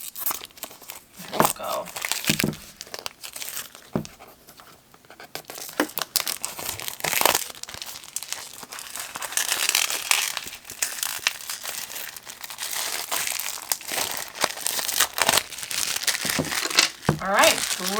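Crinkly plastic packaging around a pad of new Baohong watercolor paper is torn and crumpled open up close, with bursts of rustling and tearing over several seconds while a person talks briefly.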